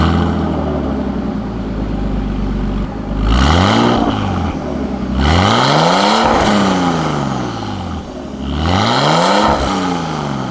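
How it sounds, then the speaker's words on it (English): An RB20DET six-cylinder turbo engine with a straight-through exhaust, fitted in a cheap drift car, revs loudly up and down three times in sharp surges, close by with no talk. "It has an RB20 DET 6-cylinder turbo engine. This one has basically a straight through exhaust."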